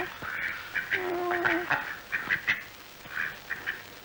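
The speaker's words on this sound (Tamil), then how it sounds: "என்னது வாத்து பிடிச்சிட்டு வந்திருக்கீங்க?" Ducks quack repeatedly in short nasal bursts, with a few honking calls mixed in, against steady background noise and without talk. The scene is from a 1980 Tamil film.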